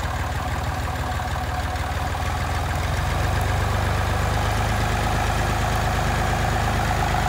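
An old Massey Ferguson tractor engine runs steadily close by, a loud, even low chugging idle with a rapid regular pulse and no voices.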